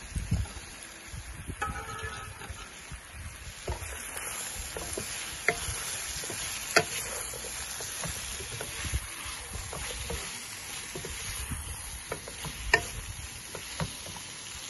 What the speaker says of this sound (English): Add the peppers in. That's about two large peppers there.